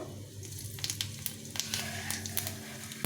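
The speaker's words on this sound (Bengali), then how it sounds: "এখন এর মধ্যে একটু জিরে ফোড়ন দিয়ে দেবো" Cumin seeds sizzle in hot oil with a steady crackling hiss and small bright pops, close and moderately loud throughout.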